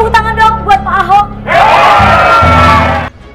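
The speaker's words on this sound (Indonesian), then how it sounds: "Tepuk tangan dong buat Pak Ahok." An audience applauding for Pak Ahok, a governor appearing as a guest: after some loud shouts, a thick, steady wash of clapping and cheering rises and holds for about a second and a half before stopping abruptly.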